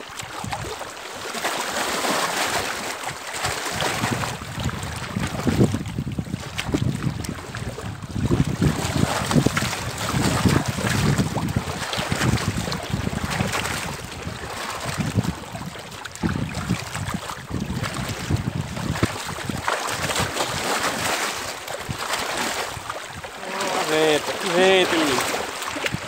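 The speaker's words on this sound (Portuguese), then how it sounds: "Vento," Wind buffets a boat out on the water, a steady broadband rush and microphone rumble that runs loud throughout, with a person speaking faintly over it.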